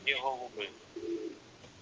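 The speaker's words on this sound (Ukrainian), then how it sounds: "Слухайте, я чую, що у вас є голуби." A few soft, low coos from a pigeon, faint and somewhat distant, with short gaps between calls against a quiet background.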